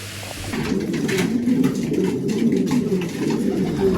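Racing pigeons coo steadily at the loft after a 340 km race from Gransee, a dense low murmur of many birds close by, continuous and fairly loud with no talking.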